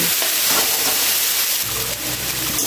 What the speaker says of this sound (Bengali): এবার ভালোভাবে নুন আর হলুদ দিয়ে লতিটাকে একটু ভাজা ভাজা করে নিতে হবে।